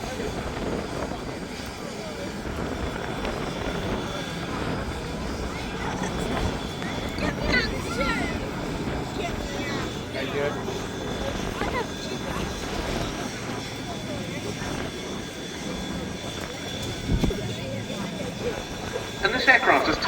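At a Duxford summer air display, the B-17G Flying Fortress flies past with a steady, rough four-engine piston drone that stays fairly distant and even, heard under continuous commentary over the public address.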